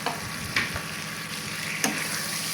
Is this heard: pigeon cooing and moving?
no